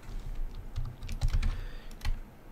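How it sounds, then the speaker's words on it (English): Fingers tap on a computer keyboard in a quiet room, a soft irregular patter of keystrokes with a few louder clicks, close and faint, with no speech. "Why am I typing that up there?"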